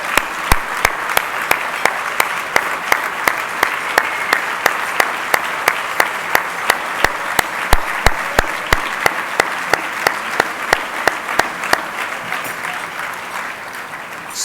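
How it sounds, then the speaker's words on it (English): Dinner guests at a charity gala for global health applaud, a dense, loud ovation of steady rapid clapping that carries on evenly before tapering slightly near the end, with no talking over it. "Let's have another round of applause."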